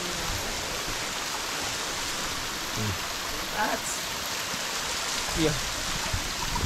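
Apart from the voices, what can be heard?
artificial mini waterfall flowing in Taiwan department store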